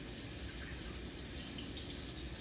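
Warm water runs steadily from a tap into a sink, a continuous close hiss and splash with no pauses.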